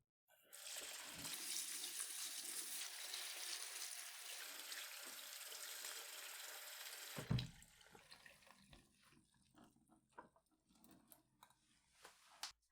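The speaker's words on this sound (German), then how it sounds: "spüle sie unter fließendem Wasser gründlich ab und lasse das Wasser abtropfen" Tap water runs steadily into a sink over red lentils being rinsed for several seconds, then stops, leaving faint drips and small handling sounds.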